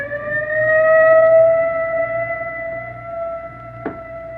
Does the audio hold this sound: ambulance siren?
yes